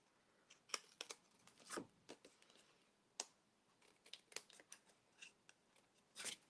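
Scissors trim paper for a craft project in quick, crisp snips, a series of close, faint cuts at an irregular pace with no talking.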